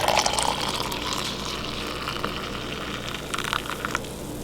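Hot water poured into an AeroPress to make an Americano: a steady, close splashing pour that runs throughout, with brief brighter trickling bursts near the end.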